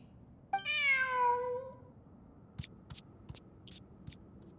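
A single clear, drawn-out meow from a cat in a video game's Sumeru ruins exploration event, followed by a few faint, scattered clicks over a quiet background.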